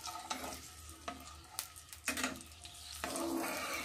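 Whole garlic cloves and spices sautéing in oil for an olive pickle, a steady close sizzle with scraping stirs and brief clatters of a spoon in the pan, no voices.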